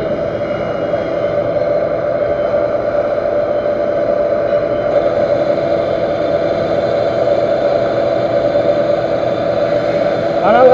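A metal lathe turning a steel table leg, a steady continuous machining drone with a constant mid-pitched hum running loud and unbroken throughout, with a brief squeal near the end.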